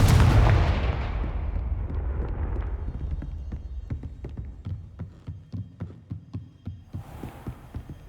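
A Confringo fire spell explodes in Hogwarts Legacy, a loud booming blast whose rumble fades over a few seconds into a series of rhythmic thudding pulses, with no one talking.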